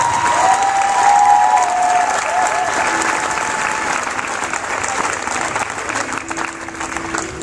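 Loud audience applause fills a church seminar on spiritual combat, dense and sustained at first and gradually thinning, with a faint tonal sound underneath and no talk.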